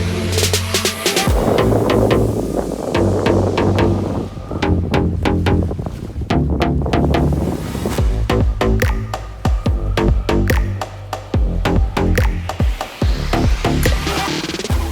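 Sailing yacht under way in strong wind between Cascais and the Mediterranean, with heavy wind buffeting, repeated sharp knocks and rattles, and rushing water from waves, loud and close throughout.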